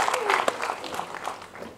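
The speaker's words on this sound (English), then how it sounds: "A huge round of applause for our moderator." Brief applause for a panel moderator at a film discussion event, a short burst of mixed clapping with voices mingled in.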